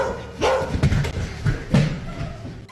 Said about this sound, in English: you hear a dog barking and his owner presumably trying to calm him down